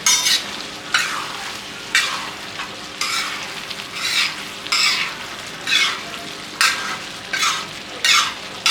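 Chicken being stirred on a tawa, with bursts of sizzling and scraping roughly once a second as the spatula turns the pieces over a steady frying hiss.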